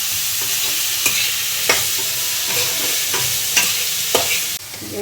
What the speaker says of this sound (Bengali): এদিকে পনির ভাজা হচ্ছে এদিকে সবজিটাও হয়ে যাচ্ছে